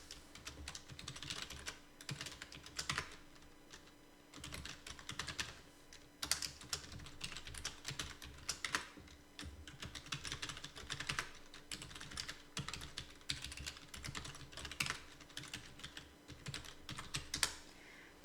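Someone types on a computer keyboard while entering data in an Excel spreadsheet, producing quiet, close clusters of key clicks in uneven bursts with short pauses between.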